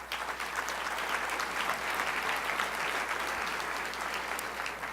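An audience at a transportation gathering applauds steadily, a dense, even wash of many hands clapping at moderate distance over a low hum, with no voices.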